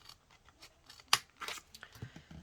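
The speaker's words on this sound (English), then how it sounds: "it's just as easy to go straight across with your scissors" Quiet snips and crisp rustles as scissors cut recycled cardboard packaging, with one sharp scissor cut standing out among scattered small crinkling sounds.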